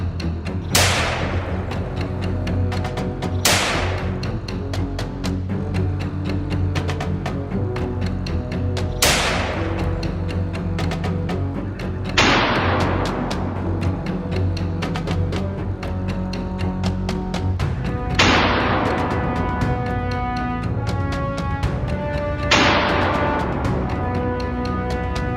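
Gunshots during a wild hog hunt on Florida farmland, six loud sharp cracks spaced a few seconds apart, each with a long ringing decay over a constant low rumble.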